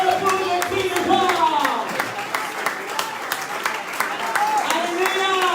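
A church congregation applauds and cheers during a worship service, a dense sustained wash of clapping with voices shouting and singing over it throughout.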